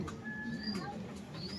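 A thin, sick pigeon with a cold coos softly up close with a wheezy, congested rattle, while faint background sounds and distant thin whistles run underneath.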